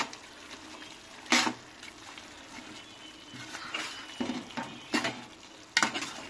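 Food being stirred in a frying pan with green chillies, ginger and garlic, a soft low sizzle broken by a few sharp spoon-on-pan scrapes and clinks at irregular intervals.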